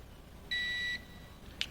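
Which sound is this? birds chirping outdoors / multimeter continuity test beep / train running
multimeter continuity test beep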